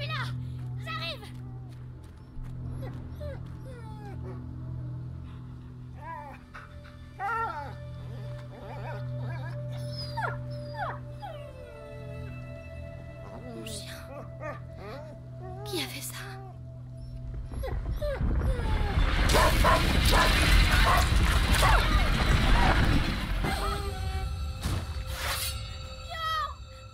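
Dog whimpering, yipping and barking in the video game A Plague Tale: Innocence, a string of short cries and yelps over a low droning score, then a loud burst of dense noise near the end, with speech heard.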